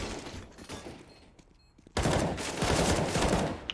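Gunfire in the video game CS:GO, a few scattered shots early, a quiet lull, then a sudden loud burst of rapid overlapping shots that continues densely to the end.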